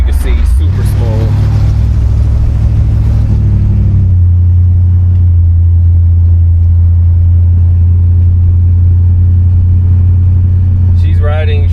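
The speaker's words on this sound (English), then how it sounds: "Go ahead and hit the little dip that we got over here." A 1962 Chevrolet Impala SS rumbles loudly from inside as it rolls over a small dip, the deep engine note rising briefly then settling into a steady low cruise.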